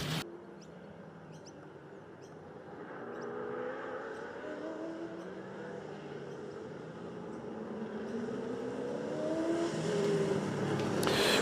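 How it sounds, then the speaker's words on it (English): Historic touring race cars circle the Sandown circuit, and their engines hum steadily from a distance. The drone grows slowly louder over about ten seconds, and no one speaks. "these cars making their way around"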